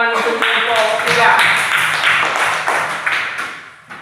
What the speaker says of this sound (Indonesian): Kasih tepuk tangan untuk kelompok 3.